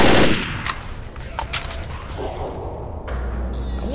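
Rapid automatic gunfire in the zombie shooter Left 4 Dead, a loud burst of dense rattling shots up front that thins into scattered cracks and thuds.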